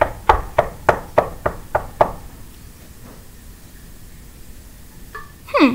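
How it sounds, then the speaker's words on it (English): Seven sharp, evenly spaced knocks land on a door in quick succession, followed by a quiet pause and a brief rustle at the end. "Then came a knock at the door."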